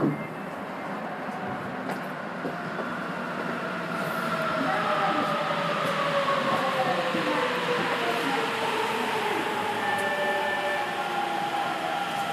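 A Sapporo Municipal Subway Tozai Line train runs between Shin-Sapporo and Miyanosawa, giving a continuous loud underground rumble with whining motor tones that rise and fall, as heard from inside the car.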